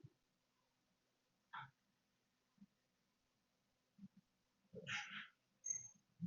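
A dog outside a bedroom door lets out a few faint, scattered barks and whimpery yips with quiet gaps between them, heard from a short distance.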